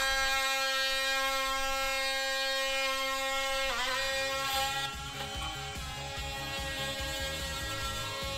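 A non-spinning blade cuts along the hardened edge of an epoxy countertop, giving a steady buzzing whine that changes pitch midway and continues as a faster rattling hum, close and with no talk.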